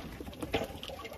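Pigeons coo softly on a farm, a few low burbling calls rising over faint background noise, brief and close.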